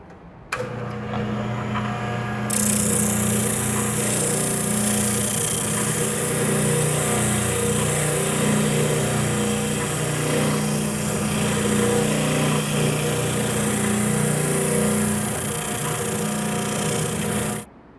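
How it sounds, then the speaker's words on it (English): A spindle sander shaping a wooden T-square runs loud and steady, its motor whine and abrasive hiss droning close up for most of the stretch before cutting off at the end. "Now at the spindle sander, we'll sand to the lines."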